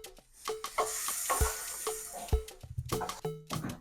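Pork chops sizzle on a grill as they are flipped, a close crackling hiss broken by handling clanks and soft thuds over a few seconds.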